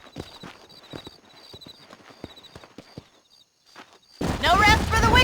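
Horse hooves clip-clop in Red Dead Redemption, a string of crisp, evenly spaced strikes close by, followed by a sudden burst of louder, busier game sound near the end.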